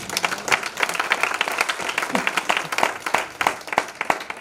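A church congregation applauds during a sermon, uneven clapping with distinct sharp individual claps over a murmuring crowd, fairly close and lively for a few seconds.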